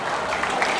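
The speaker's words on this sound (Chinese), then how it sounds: "还有掌声的，第一次要有掌声的" An audience at a folk music band performance claps, a brief burst of dense applause at moderate distance with no clear speech over it.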